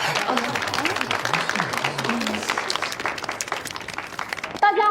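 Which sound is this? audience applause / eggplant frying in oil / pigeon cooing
audience applause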